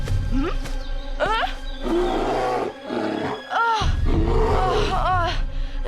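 A bear in a cartoon forest, near a blueberry patch, lets out several loud, close growls and roars in bursts, with voices heard between them.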